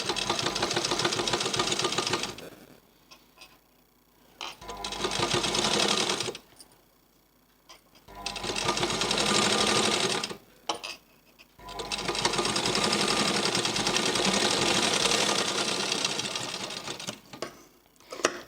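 Sewing machine stitching thread piping onto cloth for a leaf-shaped design, running in several loud, close bursts of rapid whirring stitches separated by short pauses.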